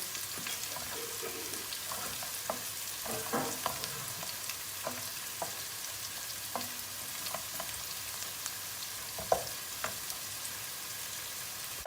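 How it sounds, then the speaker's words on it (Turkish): Dry pasta toasting in oil in a pan for a green lentil dish, giving a steady low sizzle with occasional stirring clicks and scrapes throughout, no talking. "Makarnayı da ortalama şöyle bir dakika kadar bir kavuracağız."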